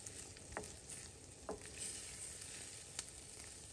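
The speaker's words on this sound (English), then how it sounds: "today I'm just going to add some diced onion and just continue to saute and cook" Diced onion sautés in a pan for a breakfast burrito, a continuous soft crackling sizzle with occasional light taps of a utensil, close but quiet, and no talking.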